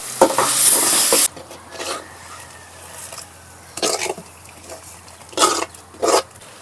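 Cooked ponnanganni greens mashed together with sautéed chilli, garlic, onion and tomato in a pot, heard as a loud opening scrape followed by intermittent wet squelching, stirring and clanking strokes up close.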